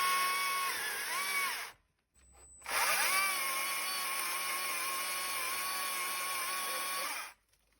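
A chainsaw revs loudly and steadily, drops out briefly to a low idle, then roars back up and holds a sustained high-pitched whine while making a step cut into a small tree trunk.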